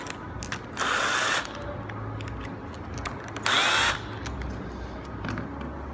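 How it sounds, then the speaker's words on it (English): Four 15 mm retaining bolts being backed off a Delphi steering box on a WJ with a power ratchet, heard as two short, loud, whirring bursts separated by a pause over a steady low background. "we will remove the 4 15 mil retaining bolts"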